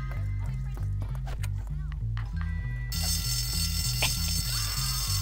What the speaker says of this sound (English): Can I pull the fire alarm?